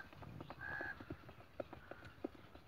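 A mare's hooves clop on the ground as she comes out through a gate, a few sharp, fairly close strikes spaced irregularly over low outdoor background noise.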